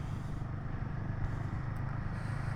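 Road traffic on a foggy motorcycle ride from Araku to Vizag, a steady broadband rumble of engines and tyres with no talking, constant and fairly close throughout.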